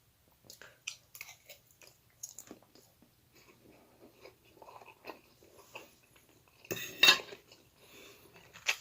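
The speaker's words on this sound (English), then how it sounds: "Here's the first bite, y'all." Someone eats the first bite of a breakfast of savory eggs and sausage with something sweet, giving close, soft chewing and biting with faint clinks of cutlery and a louder crunchy burst near the end, with no talk.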